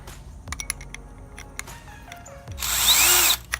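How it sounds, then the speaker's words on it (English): A power drill bores a 3/8 inch hole in a Dodge Charger SRT style rear spoiler: a few light clicks and handling knocks, then a loud, whining burst of drilling lasting about a second. "I'm going to drill the 3/8."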